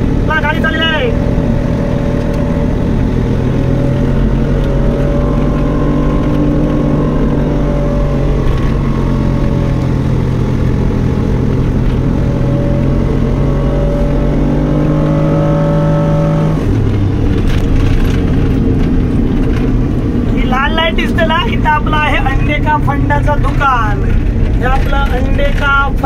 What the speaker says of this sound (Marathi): देवराईला उमा सुपर मार्केट ला गाडी चालली आहे